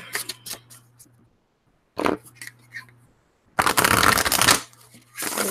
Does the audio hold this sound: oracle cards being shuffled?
yes